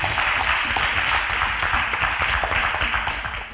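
Audience applause after a correct answer at a Nigerian school quiz contest, a dense steady burst of many hands clapping together, fairly loud and close, holding for several seconds before easing slightly at the end.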